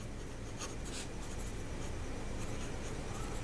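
A maths teacher writes on a board during a sets lesson, a soft, continuous scratchy stroking with brief louder strokes, close and steady, no voice heard.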